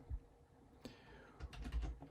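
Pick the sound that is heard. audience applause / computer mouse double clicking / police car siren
computer mouse double clicking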